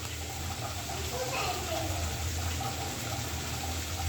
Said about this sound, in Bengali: ঠিক আমি এখন জল দিয়ে দিই।